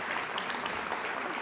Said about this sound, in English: And an applause for him too.